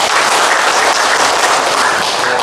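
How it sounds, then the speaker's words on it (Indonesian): Dense, steady applause from an audience at a village council training opening, loud and continuous across the whole clip with no voices standing out. "Tepuk tangan dulu Bapak Kepala Dinas"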